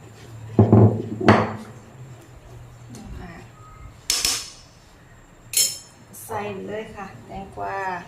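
A pestle pounds red curry paste in a mortar for a Thai sour shrimp curry, giving several sharp, bright knocks spaced a second or more apart, with someone talking between the strikes.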